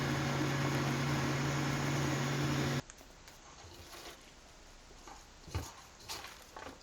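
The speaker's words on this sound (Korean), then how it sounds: "믹서합니다." A blender whirs loudly for about three seconds, blending shiitake mushroom powder, kelp and water into a kimchi seasoning, and stops abruptly, leaving faint clatter and small knocks afterward.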